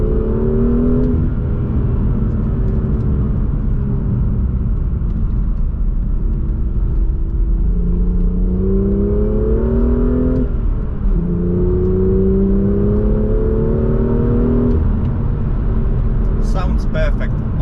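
Stationary car with a sport catalytic converter exhaust, idling then revved several times, the rising and falling engine notes loud and close with a steady deep rumble underneath.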